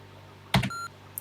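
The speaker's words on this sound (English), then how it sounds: "okay, there's the beep" A TI home computer gives a short electronic beep, a single clean tone lasting under half a second, preceded by a small click of keyboard handling.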